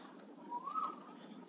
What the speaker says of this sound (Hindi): कोयल की आवाज भी सुन सकते हैं।